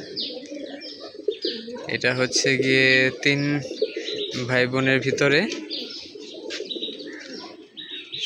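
Pigeons coo and chirp close by in a loft, soft warbling calls mixed with someone speaking over them in bursts.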